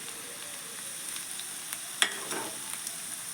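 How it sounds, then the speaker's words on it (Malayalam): Onions frying in a pan with a pinch of fenugreek for a homestyle bilimbi curry produce a soft, steady sizzle, broken once by a single sharp clink. "ഉള്ളി മൂത്ത് വരുമ്പോഴത്തേന് നമുക്കതിലേക്ക് ഒരു നുള്ള് ഉലുവ ഇട്ട് കൊടുക്കാം."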